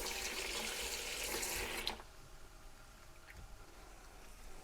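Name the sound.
water added to hot pan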